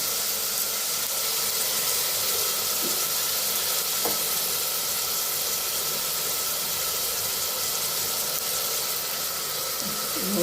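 Steady sizzle of vegetables frying in oil in a pan for vegetable pulao, a continuous even hiss with faint stirring clicks, close by and with no talk.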